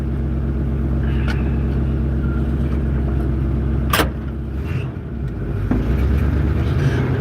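A 1972 Chevrolet C30 truck engine rumbles steadily up close, a deep continuous drone that dips briefly, then swells back with a sharp click partway through.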